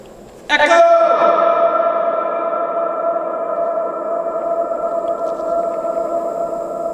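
A shouted call inside an abandoned concrete TNT storage bunker sets off a long, dense reverberant echo that rings on loudly for several seconds and decays only slowly.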